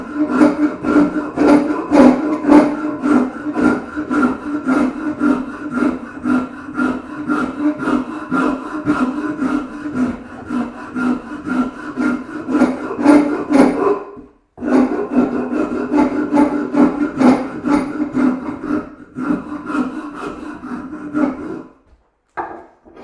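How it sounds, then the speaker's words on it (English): A rasp rounds the back edge of a wood carving in fast, rhythmic scraping strokes, loud and close, running steadily with a short pause midway and stopping near the end, no speech over it. "Actually, I'm going to come in with the rasp again."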